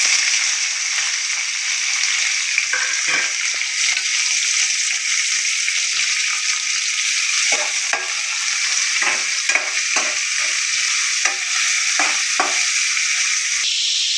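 Chopped onions fry in a hot pan with a steady, close sizzle that continues throughout, broken by scattered scraping stirs.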